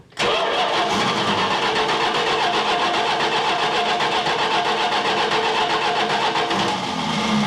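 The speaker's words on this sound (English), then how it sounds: "I can just crank it a little bit." The engine of a 1970 Dodge Charger that sat unused for 20 years cranks steadily and loudly up close, a sustained rhythmic mechanical churn running unbroken for several seconds with no voices over it.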